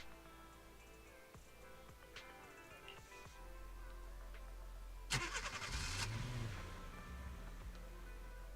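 A car engine in the video game Zenless Zone Zero starts and revs, a low engine hum that swells into a brief louder roar midway, mixed with game sounds.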